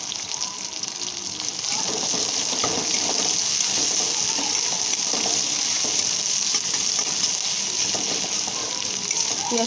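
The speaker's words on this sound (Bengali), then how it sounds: "এবার দিয়ে দেবো কুচিয়ে রাখা পেঁয়াজ।" Chopped onion goes into hot oil with cumin, and a bright, steady sizzle builds after a brief quieter start, then holds continuous and fairly loud.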